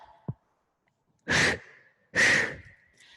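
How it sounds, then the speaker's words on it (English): Two deep breaths in a beginners' hot yoga class, each a soft, breathy rush lasting about half a second, close and clear, separated by a short pause with near silence around them. "Take a deep breath"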